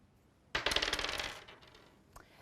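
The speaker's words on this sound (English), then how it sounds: "2 dice, I'm going to roll it." Two dice clatter as they are rolled across a hard surface, a sudden burst of rapid rattling clicks that tumbles for about a second and settles, with a faint final tap; nearby and fairly crisp.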